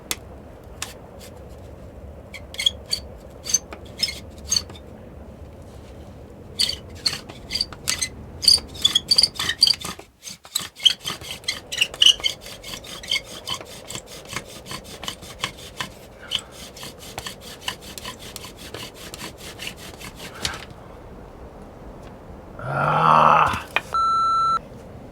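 Repeated wooden rubbing and rasping strokes of a bow drill used to start a fire come in bursts with pauses between, close and fairly loud, followed by a short electronic beep near the end.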